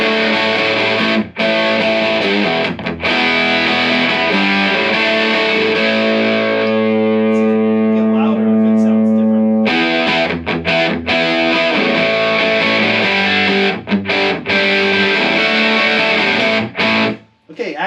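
An electric guitar plays loud, heavily distorted notes and sustained chords through a Boss Nextone Special amp set to EL84 British style, a dense continuous tone with a long held chord in the middle.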